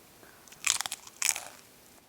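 Two sharp crunchy bites into a chicken quesadilla with an unevenly cooked, partly crisp tortilla, each a close, loud crackling burst followed by brief chewing, with no voices.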